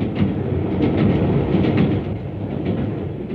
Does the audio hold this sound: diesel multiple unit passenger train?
yes